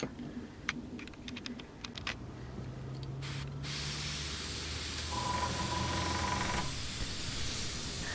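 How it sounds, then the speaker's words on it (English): Harder and Steenbeck Evolution CRplus airbrush with a 0.2mm needle and nozzle spraying pre-thinned red paint, a few light clicks and then a steady close hiss of air that swells and continues to the end. "The Evolution sprays middle sized lines very, very smoothly"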